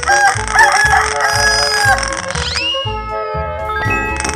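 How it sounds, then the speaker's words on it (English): A cartoon chicken crows a loud cock-a-doodle-doo in an animated paint-and-animals transformation, with the call riding over bouncy background music before a rising swoop. "Chicken."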